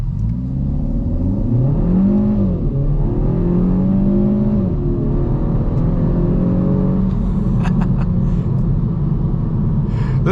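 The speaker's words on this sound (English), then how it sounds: "I'm just gonna floor it and see what happens." A 2024 Kia Forte GT is floored from the driver's seat, the engine rumbling and revving hard with rising pitch sweeps as it shifts, loud and continuous throughout.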